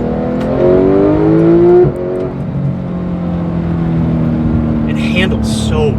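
A Porsche 911 GT3 engine revs up and shifts, its pitch climbing and dropping, then settles into a steady drone with brief higher whines near the end.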